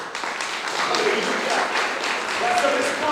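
Church congregation at a Sunday service clapping together, a steady dense patter of many hands filling the room, with voices mixed in throughout.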